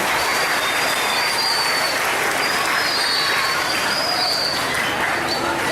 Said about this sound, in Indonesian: Tepuk tangan untuk anak-anak kita semua